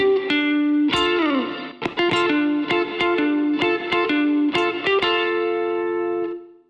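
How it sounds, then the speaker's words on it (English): Distorted electric guitar plays a minor hexatonic lick in a guitar solo, with quick picked notes, bends and sustained tones, loud and alone. "then he plays a minor hexatonic lick before calling back to the earlier double stops"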